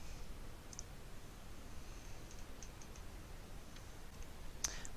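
A computer mouse clicks a few times, sparse, soft, isolated clicks spread out against a quiet background hiss, with one sharper click near the end.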